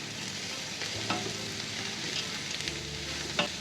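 Green chillies, ginger, garlic and onion sautéing in oil as the base of a chicken stew, a dense continuous sizzle with a few soft stirring knocks, close and loud, no speech.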